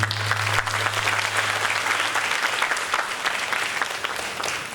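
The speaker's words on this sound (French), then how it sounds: "Et je demande à tout le monde de l'applaudir très fort." Loud, sustained applause from an audience at a celebration of excellence and retirees in a national theatre, thick continuous clapping with a low hum at the start.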